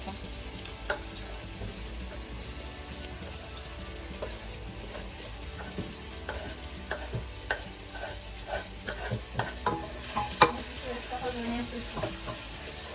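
Leek, garlic and aromatics sautéing in a pan, with a steady soft sizzle running throughout and scattered stirring clicks and scrapes that grow busier toward the end.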